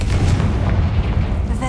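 The Confringo fire spell detonates in the Hogwarts Legacy video game with heavy, booming low thuds, loud and rumbling throughout, while a voice speaks over it.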